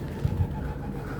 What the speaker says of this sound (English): The pigeons like it here too.